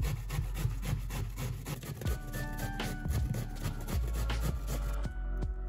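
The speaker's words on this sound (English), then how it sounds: "First, we grate the zucchini on a fine grater." Zucchini rubbed over a fine kitchen grater makes rapid, steady scraping strokes, close and fairly loud, with no voices over the shredding.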